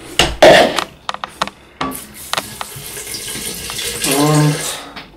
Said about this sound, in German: Dann gebe ich Wasser hinzu.